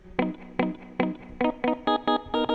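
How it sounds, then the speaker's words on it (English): A sampled instrument plays a run of short, bright, harmonic notes in an uneven rhythm, each one trailing off into a reverb wash. "So now we've got some reverb on here."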